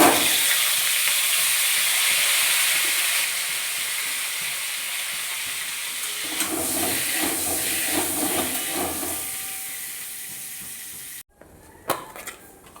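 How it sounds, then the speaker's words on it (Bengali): Boiled potatoes frying in hot oil left over from frying brinjal, a dense, steady sizzle that stays loud and close for most of the stretch, then cuts out abruptly near the end with a few clatters. "এই তেলে আমি ভেজে নেব।"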